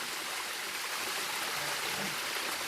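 A waterfall at a creek near a gold mine campsite flows in a steady broadband rush, dense and continuous without a break, loud and close, with no voices.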